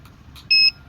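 A car parking sensor gives a single short, clear electronic beep as an object approaches the bumper, sharp and close over a quiet background.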